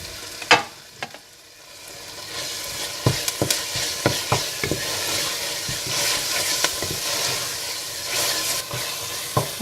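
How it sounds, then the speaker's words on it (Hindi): Garam masala, mint and coriander being stirred into frying fish biryani base in a pan: a steady loud sizzle with repeated scraping clacks of the spoon against the pan, close up and without talk. "थोड़ा भुनने के बाद आप इसमें डाल दें गरम मसाला, हाफ कप पुदीना और हाफ कप धनिया डालकर मिला लें।"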